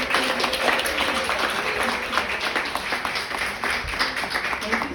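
An audience at a community photography event in a Brooklyn library breaks into applause, steady mixed clapping close and full, with some voices faintly underneath.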